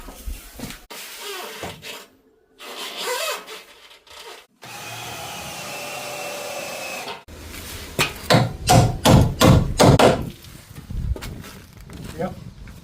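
Nails are hammered into timber noggins on a cottage staircase, with a quick cluster of sharp close blows following a stretch of rustling and a steady whirring drill sound. A voice talks between the bursts.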